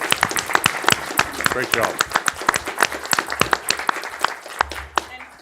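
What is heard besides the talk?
round of applause for festival volunteers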